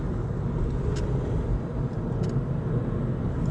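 Sunday road traffic on a rural road near an old railroad right-of-way, a continuous low rumble of passing cars with a soft swell and fade, a few faint ticks on top, no talking.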